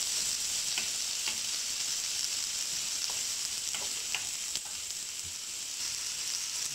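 Masala sautéing in oil for Kerala fish pollichath, a faint, even sizzle with occasional soft clicks of stirring, steady throughout and without speech.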